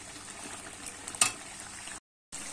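Chicken kosha, a spiced curry, being stirred in a cooking pan: a steady sizzle and bubbling with a brief scrape of the spoon near the middle, the sound cutting out briefly before returning.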